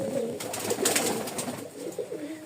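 A pair of Simi pigeons, male and female, coo close by in a pigeon loft, giving soft, low, rolling calls over a continuous background of other birds.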